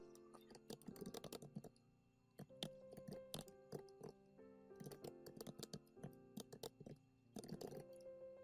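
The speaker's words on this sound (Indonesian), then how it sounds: "Kita ketikkan skripnya." A script is typed on a computer keyboard in quick, close bursts of key clatter separated by short pauses, quiet and with no talk.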